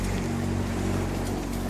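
A small boat motors into Round Hill Creek in the Whitsundays, with a steady, loud engine drone mixed with water rush and wind.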